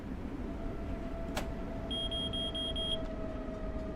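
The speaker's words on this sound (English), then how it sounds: "I see it's beeping to tell me to get down to 40." Train speed warning beep in Train Sim World 5 aboard a Long Island Rail Road train: a quick series of about seven short, high electronic beeps over a steady low cab rumble, with a faint hum beneath.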